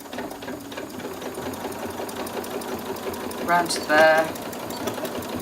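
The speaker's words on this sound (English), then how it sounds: "It just makes it easier to get the machine to stitch around them." A sewing machine stitches around the curved armhole of a dress, a steady close mechanical whir running throughout with brief louder bursts near the end, and a voice speaking over it.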